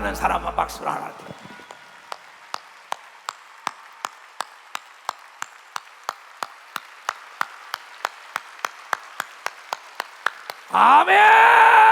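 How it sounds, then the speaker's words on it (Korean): A church congregation at a Wednesday worship service claps in a steady, evenly spaced rhythm of sharp claps, roughly two or three per second. A brief voice comes before the claps and louder speaking follows them. "깨닫는 사람은 박수를 하나 드려."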